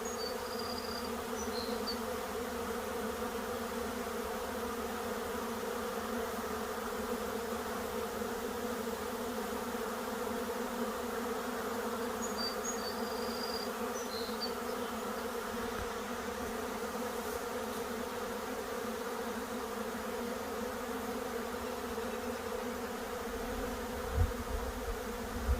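A swarm of honeybees buzzes steadily outdoors, a dense continuous drone holding level for the whole stretch, with a few faint chirps above it and a brief thump near the end.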